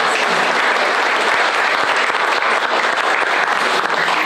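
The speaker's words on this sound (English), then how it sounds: "Let's give him a big round of applause." Steady audience applause fills the room at a morning press conference for the Anderson Speedway Little 500, a dense, even clapping that runs loud and unbroken for several seconds.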